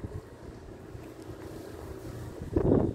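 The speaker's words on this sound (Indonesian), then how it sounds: "Anginnya kenceng, jadi cepet bisa naiknya." Strong outdoor wind buffets the microphone while a kite is flown, a steady low rumble that swells into a louder gust near the end, with no voices.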